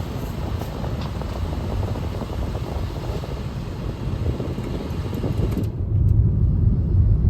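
An airplane passes overhead at the Cheruppadimala viewpoint in Malappuram, heard as a low, distant rumble mixed with wind. The sound cuts off near the end.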